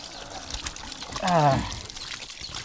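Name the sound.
pouring water to wash hands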